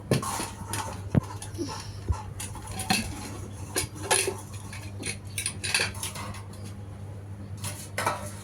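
Cooked mutton curry poured and scraped from a metal cooking pot, with repeated clinks and scrapes of metal on metal over a steady low hum, close and moderately loud.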